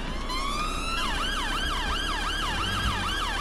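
Wailing emergency sirens in the police game LCPDFR, British police setting: a rising tone gives way to a rapid, repeating up-and-down wail, loud and continuous over a steady road rumble.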